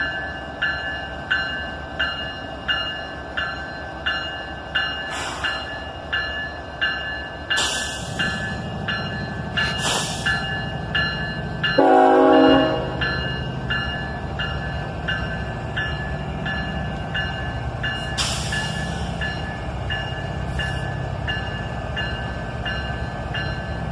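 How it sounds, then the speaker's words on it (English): A very long freight train heaves into motion, opening with a rhythmic series of clanks as couplers take up slack, then a loud horn blast and a sustained low rumble with squealing wheels, nearby and without talk. "this beast of a freight train was ready to head out"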